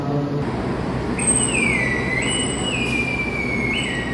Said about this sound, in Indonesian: Ini yang baru masuk di jalur 1 ada kereta api Sancaka ya.